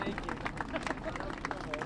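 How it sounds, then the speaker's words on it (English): Outdoor crowd clapping and cheering at a park ribbon-cutting event with a birthday celebration, a dense round of applause with babble and voices talking over it, steady and fairly close. "let's give her one big round of applause"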